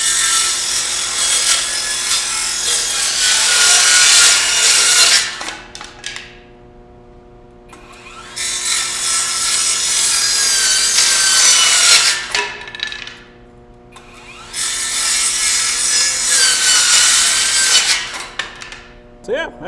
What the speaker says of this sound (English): Does not make a lot of noise, which is surprising for a circular saw.